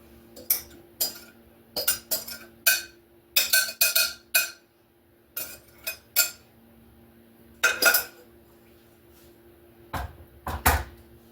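A coconut custard pie dish is set down on top of a metal pan, producing a string of sharp clinks and clatters in irregular bursts, with short quiet gaps between them and no talking.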